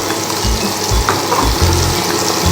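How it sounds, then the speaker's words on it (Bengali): Mushrooms coated in turmeric and chilli powder fry in a karai for a Bengali-style dish, giving a steady close sizzle with a few soft stirring scrapes and no talk. "এবার এগুলো আমি ভাজতে দিয়ে দেবো"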